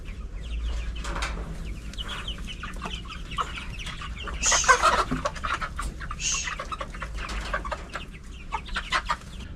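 Chickens cluck and squawk close by, with a sharper burst of calls midway over steady outdoor background noise; no one speaks.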